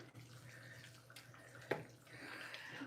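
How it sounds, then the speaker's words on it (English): Water is poured from a tap into a pot of split pea soup in a home kitchen, a faint running splash with a brief sharper gush midway, close and quiet. "Sometimes you have to come back in with more water."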